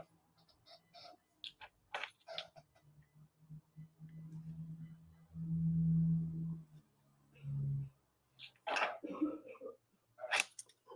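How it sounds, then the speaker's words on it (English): Several rough, harsh coughs from a boy, a few tight and close, broken up by pauses, ending with a low, drawn-out hacking cough. "My son's still coughing too, I guess."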